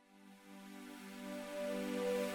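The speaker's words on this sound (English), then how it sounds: "When the music starts soft but gradually gets louder, we call this a crescendo" A sustained musical chord swells in a crescendo, starting soft and growing steadily louder over a couple of seconds with no voices.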